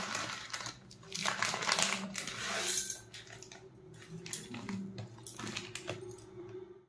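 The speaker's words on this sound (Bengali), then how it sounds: "এবার আমি ম্যাগিটা দিয়ে দিচ্ছি এর মধ্যে।" Dry Maggi instant noodles dropped into water in an electric kettle: a dense crinkly, scraping clatter of brittle noodle block and packet, close and moderately loud, busiest early then settling into lighter rustles and small knocks.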